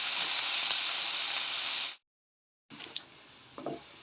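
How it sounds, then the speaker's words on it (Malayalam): Onion, garlic and ginger paste fries in a pan on a low flame for a Kerala-style tilapia fish curry, giving a soft, steady sizzle broken by a brief cut to silence before it resumes with faint ticks. "ഇവിടെ നമ്മൾ ലോ ഫ്ലെയിമിൽ വെച്ചിട്ട് നന്നായിട്ടൊന്ന് ഫ്രൈ ആക്കി എടുത്തിട്ടുണ്ട്"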